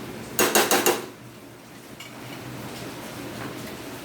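Spoon scraping and clanking against a pan while mung bean curry is stirred, four quick loud metallic knocks near the start followed by a quiet steady background hum.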